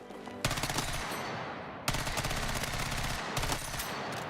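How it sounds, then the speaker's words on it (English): Rapid bursts of P90 submachine gun fire in Battlefield 6, three sustained volleys of fast, dense shots, loud and close, with a short pause between each burst. "P90 for sure."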